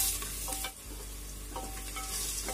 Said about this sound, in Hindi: में थोड़ा सा नमक डाल देंगे जिससे कि प्याज जल्दी फ्राई हो जाए